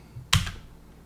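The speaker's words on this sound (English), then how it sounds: "hit the delete key on my keyboard" One crisp press of the delete key on a computer keyboard, a single close click over faint room noise.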